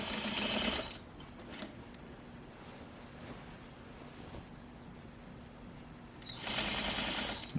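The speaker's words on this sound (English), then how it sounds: "So I'm going to sew these together now at 1/2 inch." A sewing machine stitching pajama pant seams at half an inch, two short bursts of fast motor whirring at the start and end with a quieter steady hum between.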